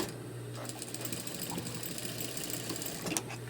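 A sewing machine runs continuously at close range while stitching down the pleats of a fabric hospital mask with white thread, a steady rapid mechanical whir that lasts throughout with no talk.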